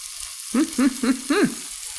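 Bacon fries in a breakfast sandwich maker with a steady, close hiss of sizzling. Four short, drawn-out vocal exclamations from a person sound over it.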